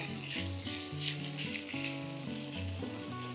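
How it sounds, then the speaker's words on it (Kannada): Broccoli fries with capsicum in a pan for a broccoli paneer palya. A continuous close sizzle hisses throughout, with steady melodic tones playing alongside. "ಬ್ರೋಕ್ಲಿ ಒಂದು ಎರಡು ನಿಮಿಷ ಫ್ರೈ ಆಗಲಿ"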